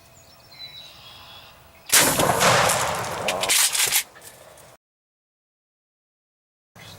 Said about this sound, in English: we're gonna shoot him with a shotgun